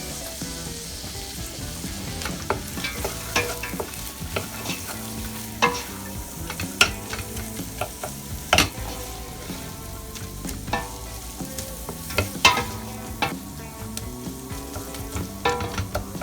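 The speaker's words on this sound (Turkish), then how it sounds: "Ve kavurmaya devam ediyorum." Peppers and carrots are sautéed with minced meat for a pea dish. A spatula scrapes and knocks against the pan in repeated bursts over a low, continuous sizzle, with no voices.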